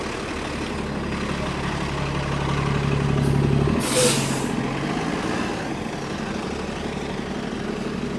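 Trucks idle in a Manhattan traffic jam near Billionaires Row, a continuous low engine rumble with one sharp hiss of air brakes releasing midway.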